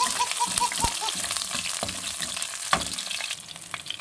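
Garlic sizzles in a hot pan of oil, a steady loud crackle and hiss close by, with occasional scraping and stirring clinks from a utensil.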